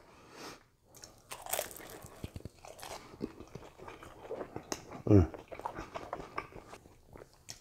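Someone bites into and chews a mac and cheese egg roll with smoked beef and a little barbecue sauce. One sharp crunchy bite lands midway, and softer chewing sounds follow, with background noise throughout.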